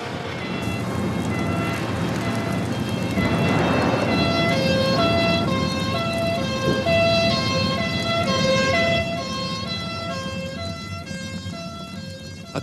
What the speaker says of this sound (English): There's another fire engine coming